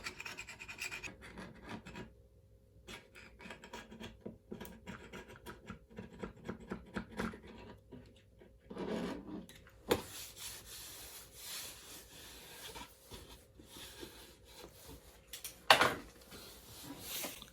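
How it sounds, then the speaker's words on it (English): Knife scraping excess epoxy along a snowboard edge, with quiet irregular scratchy strokes and short bursts of rubbing, some louder scrapes near the end, close by with no talking. "I'm just going to run my knife along the edge, try and get any excess"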